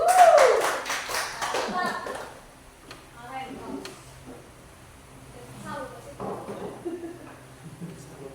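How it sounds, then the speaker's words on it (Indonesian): Students in a classroom clap for a presenting group, a short burst of hand clapping at the start that quickly fades, followed by children's voices and light taps in a quiet room. "Tepuk tangan untuk kelompok 1."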